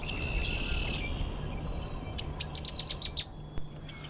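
Bright, high bird chirps ring out in a quick series of short tweets over a steady outdoor hiss, with a sustained insect-like trill early on.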